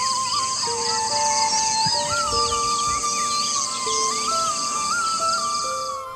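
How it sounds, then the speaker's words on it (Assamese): In the forested Deo hills near Abhayapuri in Assam's Bongaigaon district, birds chirp, whistle and call in overlapping phrases over a steady background hiss. "চৰাই চিৰিকটিৰ মাতত মুখৰিত হৈ"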